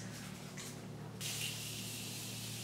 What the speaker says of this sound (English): I'm gonna go ahead and spray my face with the Morphe Continuous Setting Mist